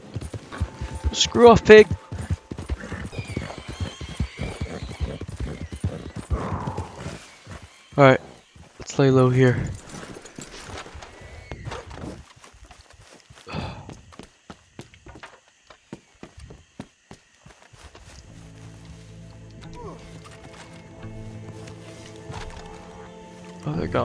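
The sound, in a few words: horse hooves riding in Red Dead Redemption 2 video game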